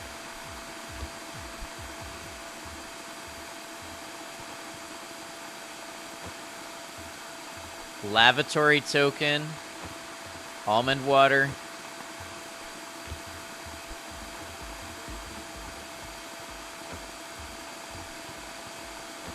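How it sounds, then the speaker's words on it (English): A steady vacuum-cleaner-like drone hums through a Backrooms horror video game demo, set in the Level 0 halls, running unbroken for the whole stretch while a voice speaks two short phrases over it. "Why am I hearing vacuum cleaner?"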